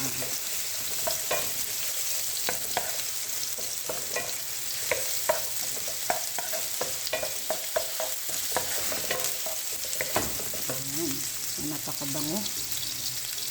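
Ginger stir-fries in olive oil, a constant crackling sizzle broken by repeated scraping and clinking of a utensil against the pan, with brief speech near the end.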